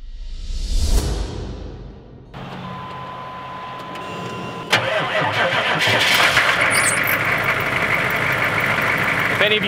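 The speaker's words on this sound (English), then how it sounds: "get this bus all turned on, turned around" A school bus engine cranks over in the cold, catches and settles into a loud, steady rumbling idle with a higher whine on top.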